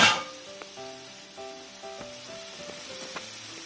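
Maruya, battered banana fritters, sizzle steadily in a pan of oil over medium heat: a soft, even crackle that holds throughout, with faint tonal notes drifting in the background.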